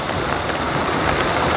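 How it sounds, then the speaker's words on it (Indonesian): Steady drizzle falls outdoors at a fish farm during a harvest of broodstock goldfish carp, a dense, even hiss of raindrops that fills the whole short stretch without pause or voices. "Ini hujan guys, aduh."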